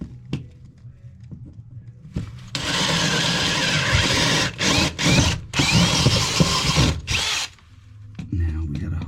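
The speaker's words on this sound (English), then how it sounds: "I'm going to drill the 4 corners out" A loud power drill runs close by in long sustained bursts, boring out four corner holes for a dryer vent, pausing briefly a few times, with quiet rumbling before and after.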